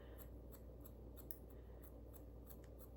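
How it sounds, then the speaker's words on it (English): Scissors point cutting hair at home, a quiet, regular series of small crisp snips, about a dozen evenly spaced over a few seconds, close and faint over a low background hum. "I'm just gonna do a little point cut again into this part"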